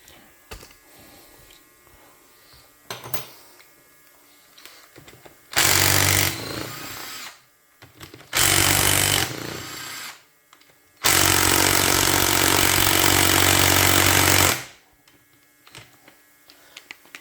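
A small cordless battery impact wrench removes 14 mm and 12 mm bolts from a Yamaha Vmax 1200 engine case during splitting, with three loud sustained bursts of rattling hammering, the last one longest, separated by quiet shop sounds.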